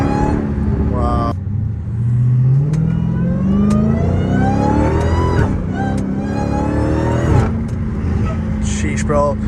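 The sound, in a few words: Dodge Hellcat Redeye engine revving while accelerating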